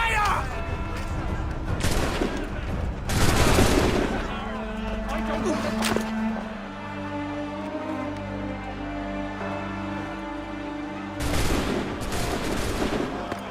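A musket volley in the Assassin's Creed III video game: several loud overlapping booming shots in bursts, rumbling and echoing between them, with a low musical drone underneath.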